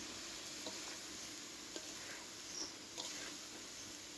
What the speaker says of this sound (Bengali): সবজিটা এখন ভালো করে নাড়াচাড়া করতে হবে।